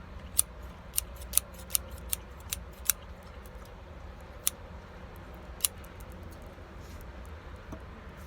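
Scissors snip in a short run of sharp, close clicks that thin out into occasional single snips over a soft background hiss, with no talking.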